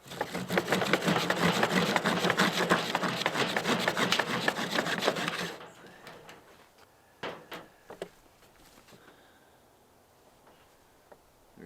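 Fireboard friction fire-making with ashed tinder: a rapid, loud rhythmic wooden rubbing and scraping for about five seconds, then stopping, followed by a few soft knocks and handling noises.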